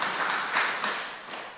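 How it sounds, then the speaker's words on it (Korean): A church congregation at a 40th-anniversary Sunday service in Cheongju gives a short round of clapping in a sanctuary. The hand claps come in a brief, moderately loud burst that fades within about a second and a half. "박수 한번 칠까요?"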